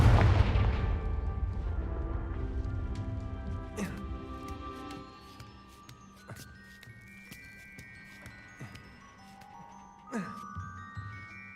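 The Confringo fire spell in the video game Hogwarts Legacy sets off a loud booming explosion at the start that rumbles and fades, followed by chiming, tinkling effects and another burst near the end.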